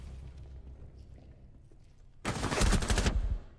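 Sudden loud burst of automatic gunfire in Rainbow Six Siege, about a second of rapid close shots cutting in after a quiet stretch of low background game noise.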